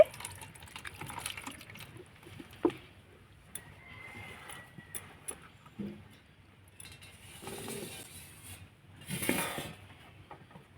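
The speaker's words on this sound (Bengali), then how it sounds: "এবার আমি তালটাকে ধুয়ে নেব" Ripe palm fruit being washed by hand in a kitchen, with irregular splashes, trickles and handling knocks at close range, a louder burst of running water near the end.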